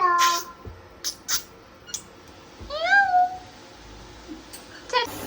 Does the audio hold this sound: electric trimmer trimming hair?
no